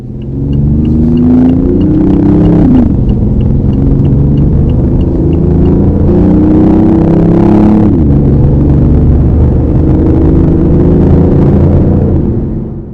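BMW i8 plug-in hybrid accelerating on a test drive, a loud close engine drone climbing in pitch through two gear changes, each marked by a sharp drop and renewed rise.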